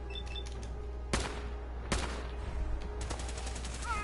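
Gunfire in the video game Fallout 4: three sharp, loud shots spaced about a second apart over a constant low background hum.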